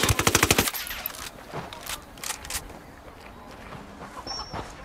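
Video game machine gun fire as a rapid, loud burst of evenly spaced shots that stops abruptly, then quieter scattered impacts and rustling movement.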